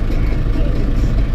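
A 6400 tractor's engine drones steadily from inside the cab, a loud, continuous low rumble with no voices over it.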